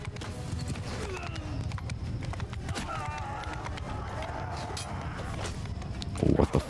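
Horse hooves clopping in a steady walking rhythm while riding up to besiege a city in the video game Mount & Blade II Bannerlord, a continuous clatter with a louder burst near the end.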